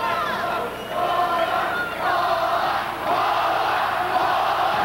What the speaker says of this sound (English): Listen to the crowd. The crowd hollering,